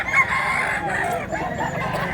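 An old rooster crows in one long, strained call, close and loud, with faint clucking and background noise around it.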